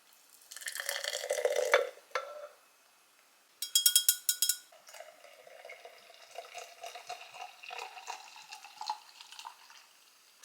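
Matcha lemonade is poured into a container in a few separate bursts of splashing and trickling liquid, with light clinks between pours and no talking.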